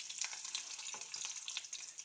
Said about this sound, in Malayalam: നമ്മൾ കൊണ്ടാട്ടമുളക് ഉണ്ട്, അപ്പോൾ ഇത് വറുക്കാൻ വേണ്ടി പോവാണ് കേട്ടോ